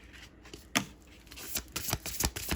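A deck of tarot cards being shuffled close up: a sharp slap, then quicker riffling flutters and soft card taps in an irregular rhythm, fairly quiet.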